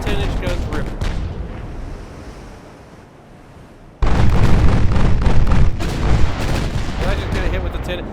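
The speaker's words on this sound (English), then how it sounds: "Let the 10-inch guns rip." Ultimate Admiral Dreadnoughts game audio with ocean surf washing steadily, then a sudden loud boom as a battleship's 10-inch guns fire, followed by sustained rumbling and crackling at higher volume.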